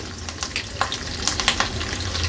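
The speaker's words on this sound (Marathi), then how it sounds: "आता अर्धा चमचा राई घालते फोडणीला अर्धा चमचा जिरं कढीपत्त्याची पानं एक हिरवी मिरची" Mustard seeds, cumin, curry leaves and a green chilli hit hot oil in a tempering, giving a close, lively sizzle full of quick sputtering pops and crackles.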